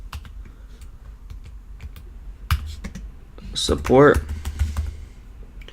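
Scattered keystrokes on a computer keyboard tap out text in short bursts, with someone speaking briefly over the typing partway through.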